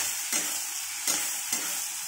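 Chopped onions stirred in a hot frying pan, a soft continuous sizzle with three brief scraping stirs spaced across the moment, close and fairly quiet, no voices.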